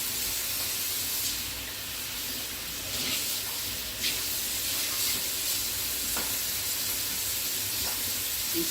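Lobster pieces sautéing with Indian spices in a pan give off a continuous, even sizzle and hiss, up close with a few faint clinks and stirring noises.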